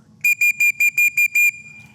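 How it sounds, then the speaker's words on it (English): Seven short, sharp, piercing whistle blasts in quick succession, the last held slightly longer, given as the cease-fire signal at an air rifle range; loud and close, with no talking. "When you hear a whistle command of 5 or more blasts sounding like this"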